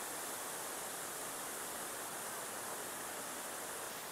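Steady, dense rush of falling water at Elephant Falls in Shillong, Meghalaya, heard close and unbroken as a broad hiss with no voices.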